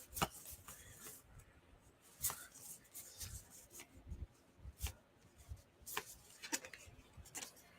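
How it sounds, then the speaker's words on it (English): Tarot cards are being shuffled by hand, giving quiet, close, irregular riffles, slides and soft taps scattered through the stretch with no talking. "I'm caffeinated and I'm distracted and I'm shuffling."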